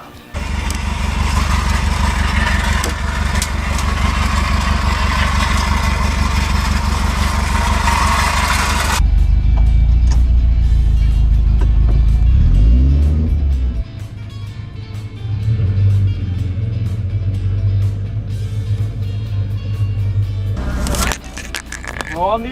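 A car engine in a demolition derby: a loud, steady roar that shifts to a deeper rumble partway through, with revs rising and falling toward the end, close up and alone.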